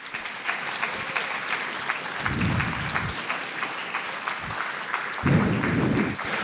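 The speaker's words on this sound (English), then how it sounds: "So how about a big round of applause for him?" Audience at a high school chorus and orchestra concert applauds steadily throughout, many hands clapping in a dense, even wash, with low murmurs and brief voices rising underneath at moments.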